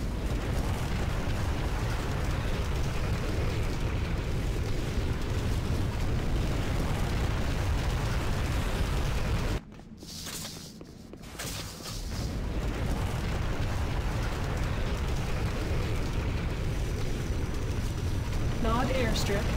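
Heavy, continuous rumbling explosions as structures are destroyed in the video game Renegade, loud and sustained with a short dip, while an announcer voice calls out events over it.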